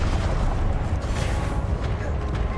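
A Confringo blasting spell explodes in the Hogwarts Legacy video game, a loud, dense, rumbling blast that fills the whole moment with sustained booming noise.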